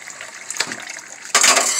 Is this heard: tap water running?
yes